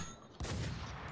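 A sudden close gunshot from a suppressed VSS Vintorez rifle in the video game Infestation: The New Z, bursting loudly after a quiet moment and trailing into a rumbling decay.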